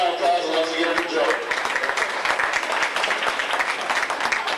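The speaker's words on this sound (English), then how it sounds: "Big round of applause once again for Joe" Applause at a 1992 racing banquet of champions honoring an award winner, a short burst of crowd clapping filling the room, with a voice talking over it.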